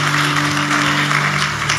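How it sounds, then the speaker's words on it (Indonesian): A church congregation claps together in a steady, dense wash of applause that lasts the whole moment, over a low constant hum. "Ya, beri tepuk tangan buat Tuhan."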